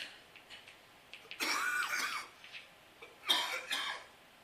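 Two harsh bursts of coughing, close and loud, separated by a short pause with faint breathing in between.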